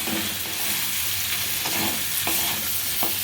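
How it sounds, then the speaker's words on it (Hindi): Okra and potatoes fry with spices in a pan, giving a steady, close, loud sizzle with faint stirring scrapes now and then and no voices. "तो बीच बीच में चलाते हुए 2 से 3 मिनट इन मसालों के साथ भिंडी और आलू को भी फ्राई कर लेते हैं।"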